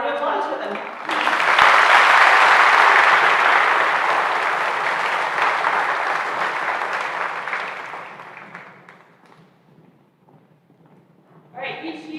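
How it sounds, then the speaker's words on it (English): A school assembly crowd applauds seniors honored for their Spanish and English proficiency, dense clapping swelling quickly, holding strong for several seconds, then fading out before a voice returns at the end. "And a round of applause for them."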